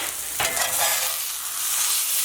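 Steaks sizzle steadily in a hot pan as they are turned over for a St. Louis-style steak dinner, a loud continuous frying hiss with a brief clatter near the start and no talk.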